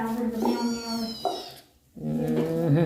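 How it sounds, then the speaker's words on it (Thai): A cat gives three drawn-out, close meows separated by brief pauses, with a person speaking softly near it. "แมวนี่"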